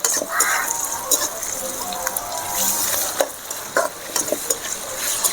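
Onion, green chilli and tomato with curry leaves sautéing in a pan for chicken kurma: soft, steady sizzling broken by irregular stirring scrapes and a few sharp utensil knocks, fairly close.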